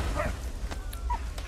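Dog in the Valiant Hearts video game gives a few short yips and whimpering barks, moderately close over a steady low game background rumble.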